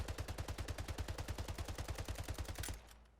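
Rapid automatic gunfire from the video game Splitgate, a steady stream of about two dozen evenly spaced close shots, then an abrupt stop with a short fading tail.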